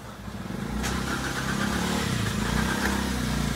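A Daihatsu Sigra or Toyota Calya engine cranks steadily under the starter without catching, a continuous low churning drone that holds for several seconds, loud and close.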